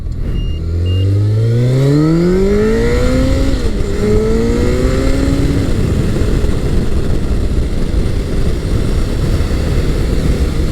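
A Honda CBR1100XX Blackbird motorcycle accelerates hard in a strong side wind, its engine note climbing through rising gear pulls before settling into a loud, steady roar with heavy wind buffeting throughout.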